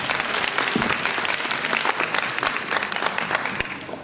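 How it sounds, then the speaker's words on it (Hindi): Dense, loud applause from a live audience greets a dancer after a devotional Ganesh worship dance on stage, sustained and steady for several seconds with no voices over it. "कामना जी के लिए एक बार तालियों के साथ अभिवादन"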